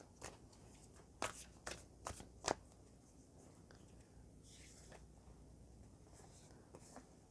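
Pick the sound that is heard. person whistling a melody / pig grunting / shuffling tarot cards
shuffling tarot cards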